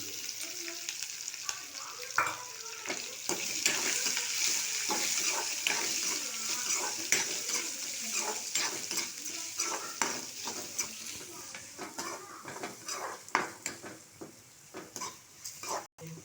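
Green chillies, ginger and onion sizzling in a hot pan, a steady close frying hiss with frequent scraping stirs and light clinks of a utensil against the metal, no talking.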